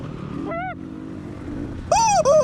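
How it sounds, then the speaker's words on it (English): A high-revving dirt bike engine drones steadily during a muddy hare scramble race, then a sharp, rising and falling whine cuts in near the end, loud and close. "His bike's sounding nice and crispy up there."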